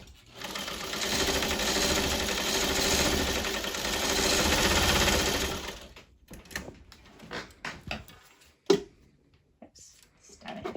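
A Singer Fashion Mate 237 sewing machine stitching in a steady, loud mechanical whir for about six seconds, then stopping, followed by scattered clicks and handling knocks.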